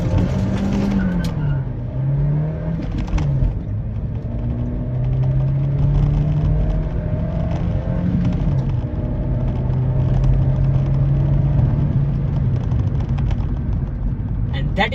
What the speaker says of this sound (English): And that is how VTEC kicked in, yo